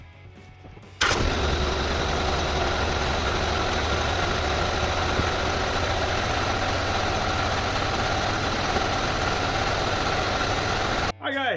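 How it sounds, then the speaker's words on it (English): A car engine cranks and catches after a second, then settles into a steady, close idle that holds evenly for about ten seconds before cutting off abruptly, during power steering fluid bleeding. "I'm just going to start the car"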